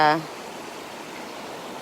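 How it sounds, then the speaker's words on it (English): Creek water flowing at Oak Creek Canyon, a steady broadband rushing murmur heard from nearby, with a brief voice at the very start. "We're down at the creek."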